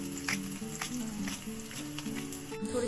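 Green chillies and curry leaves sizzling among frying onions in a pan for spicy puffed rice chivda, a soft continuous crackle broken by light spoon taps and stirring scrapes, close but fairly quiet.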